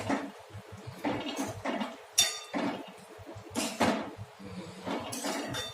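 Drumstick curry being stirred in a pot, with a string of irregular metallic scrapes and clinks of the spoon against the pot, close and moderately loud, with no talking.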